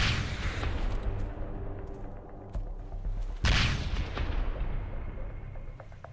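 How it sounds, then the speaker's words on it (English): A grenade goes off in the survival game Sunkenland: a loud booming blast opens, a second heavy burst hits midway, and rumbling crackle trails off between them. "let's throw one more grenade"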